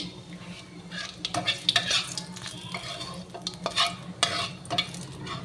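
Whole cumin seeds sizzle in hot oil alongside bay leaves for a tempering, a close, crackling fry overlaid with repeated clinks and scrapes of a spoon stirring in the pan, rising and falling in uneven bursts.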